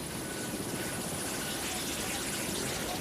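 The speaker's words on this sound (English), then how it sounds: "a conflict dominated by the helicopter gunship" A helicopter gunship's steady rotor drone, loud and continuous, with a broad rumbling roar that holds level throughout.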